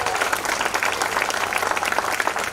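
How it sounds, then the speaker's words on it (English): A conference audience at Cloud Community Days in Bhopal claps and cheers for the organizing team, a dense, steady burst of applause throughout. "I wanted you guys to cheer for the organizing team of Cloud Community Days"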